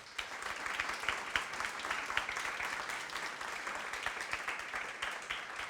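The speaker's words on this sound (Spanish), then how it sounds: "les pido a todos ustedes un fuerte aplauso" Attendees at a morning panel discussion give a warm round of applause for a migration expert, a quiet but continuous crackle of many hands clapping, heard from some distance.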